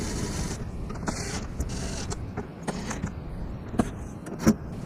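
Rough Country MOLLE panel hardware is tightened with Allen keys on a third-generation Toyota Tacoma, giving scattered faint metallic clicks and creaks over steady outdoor background noise, with no voices.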